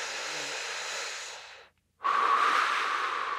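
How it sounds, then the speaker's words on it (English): Deep in-breaths drawn through the nose during a guided meditation, a long airy inhale, a brief pause of silence, then a second louder, closer breath with a faint whistling edge. "And breathe in."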